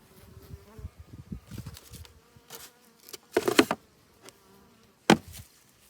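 Honeybees buzzing close by at an apiary in autumn, irregular hums that swell and fade as insects fly past, with a couple of louder passes.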